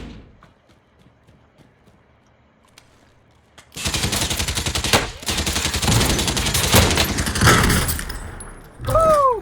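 Gunfire in the video game Call of Duty Modern Warfare, where a quiet stretch gives way to loud, sustained automatic fire and rapid shots lasting to the end.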